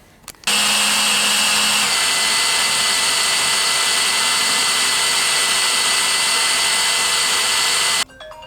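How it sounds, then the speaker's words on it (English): A power drill whines loudly and steadily for several seconds, close by, drilling a hole in metal on a Chevrolet C1500 truck, starting abruptly and cutting off at the end. "we've got a little spot marked and we're gonna start drilling"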